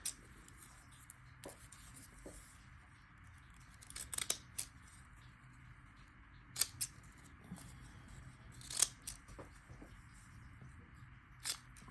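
Fancy-edge scissors snip paper in short irregular bursts of crisp cuts, close by, with quiet rustling between them and no talking.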